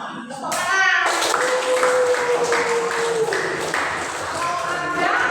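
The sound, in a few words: class clapping hands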